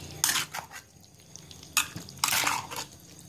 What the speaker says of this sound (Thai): คนให้มันเข้ากัน